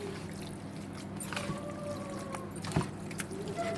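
Beef boti pieces mixed by hand with spices and colouring, soft wet squishing and squelching close by, continuous and low with a couple of slightly louder slaps.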